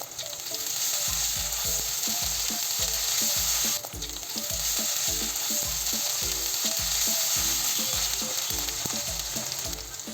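Garlic and ginger paste with chopped onion stirred and fried in a pan for liver bhuna, a steady loud sizzle with regular rhythmic scraping of the spoon against the pan throughout, no voices.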